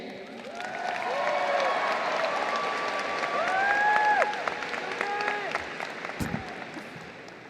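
Steady applause and cheering from a large crowd at the Plano Senior High School graduation ceremony welcome the valedictorian to the stage. The sound is sustained and swells toward the middle, with whoops rising above the clapping.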